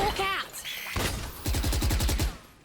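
Gunfire in the video game Valorant: a quick, loud burst of rapid, evenly spaced shots that follows a mix of other in-game sounds.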